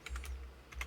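Quick, light keystrokes on a computer keyboard as a file name is entered, about six soft clicks in under a second, close and without talk.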